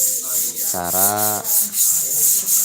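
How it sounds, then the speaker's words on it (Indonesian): Wood filler is hand-sanded on teak furniture, a table and a corner chair, with a steady run of rhythmic abrasive strokes close up. A voice speaks briefly over it. "amplas dempul impra di meja, di kursi sudut,"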